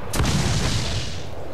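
Ship's broadside cannons firing in Assassin's Creed 4: a single loud, close cannon boom that rolls into a long rumbling decay over about a second, with no talking.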